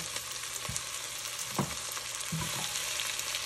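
Chicken pieces lightly frying in a pan for adobo, a steady hissing sizzle broken by a few utensil scrapes and taps as the meat is moved around.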